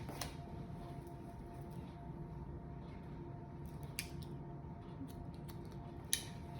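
Scissors snip hair during a 45-degree layered haircut, trimming small pieces upward; a few quiet, crisp clicks over a low steady room hum, with one sharper snip near the end and no talking.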